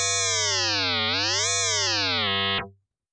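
An FM synthesis tone from Ableton's Operator, a modulated sine wave, rings as a bright, buzzy sustained note that dips, rises and falls in pitch over a steady low drone before cutting off near the end.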